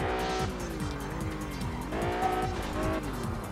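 A Lamborghini Miura drifting in the video game Test Drive Unlimited: a revving classic supercar engine with rising and falling gear-shifting tones, overlaid by sustained tire squeal as the car slides through a corner.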